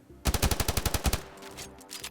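A quick burst of rapid gunfire in the video game Standoff 2, about a dozen sharp shots in fast succession, then a brief fading rumble.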